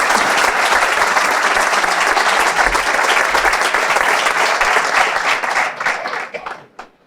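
Sustained, dense applause from an audience at the Premis Sabors 2023 awards gala, a full crowd clapping steadily before tapering off and fading out at the end.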